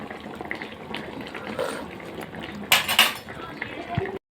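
A small glass Pyrex dish of zucchini and onion is set into a tagine, giving a short burst of clinks and clatter over ongoing kitchen noise and running water.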